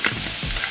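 Chicken livers and gizzards with onions cooking in a pot, a continuous close bubbling sizzle, short and steady with no voices.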